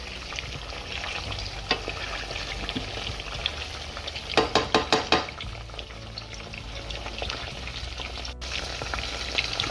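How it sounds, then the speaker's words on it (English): Vegetables fry in oil on a stovetop, a steady close crackle and sizzle throughout, with a brief cluster of sharper pops near the middle while they are stirred. "we're going to let this fry for about 10 minutes"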